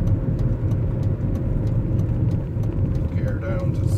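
A BMW E39 sedan converted to electric drive with a Prius inverter cruising through an industrial estate, giving a steady loud rumble of road and cabin noise with a faint whine rising near the end; a voice talks over it.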